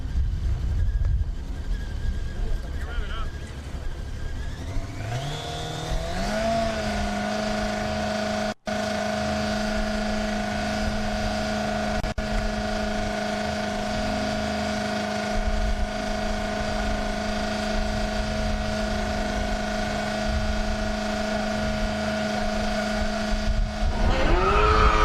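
A Formula SAE race car works through an autocross course, its engine note climbing in pitch around the five-second mark and then holding a steady, sustained tone, loud and fairly close for most of the run with no voices.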